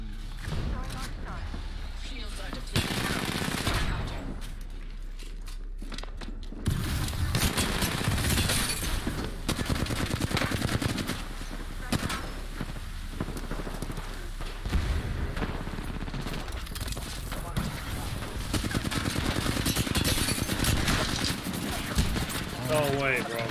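Apex Legends gunfire in a live match: repeated bursts and rattling volleys, loud and close, spread across the whole stretch, with callouts and game voices talking over the shooting.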